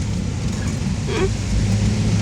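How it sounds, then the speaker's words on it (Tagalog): Strong wind blowing outdoors in the Philippines during a spell of rainy weather, a steady, loud broadband rush close to the listener, continuous throughout with no pauses. "Ang lakas ng hangin oh."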